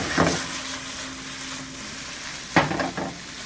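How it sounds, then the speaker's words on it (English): Steak hits a hot pan for Szechuan-sauce fried rice, a steady sizzle with two louder bursts of stirring and scraping, close and with no one talking. "The meat stir frying here."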